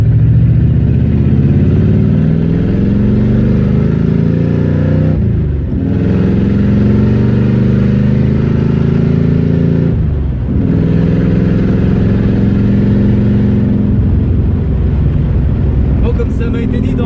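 A Pontiac Firebird with a 400 engine accelerates in steady, loud surges, its low rumbling drone broken by two brief dips as the driver lifts off, then building again near the end.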